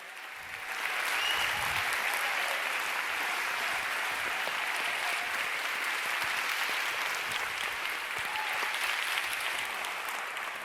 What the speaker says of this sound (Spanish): Un aplauso para nuestros científicos del Club de la Ciencia.